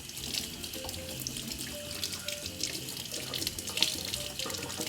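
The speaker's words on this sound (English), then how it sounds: "So wash your chilies." A kitchen tap running while fresh chilies are washed under it: a steady hiss of flowing water with splashing and faint clinks as hands move the peppers, close and moderate in level, no talking.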